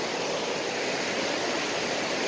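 A river flows with a broad, steady rushing wash, loud and close, unbroken throughout, with no voices.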